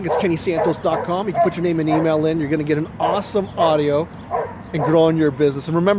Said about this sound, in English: Sorry about the barking dog.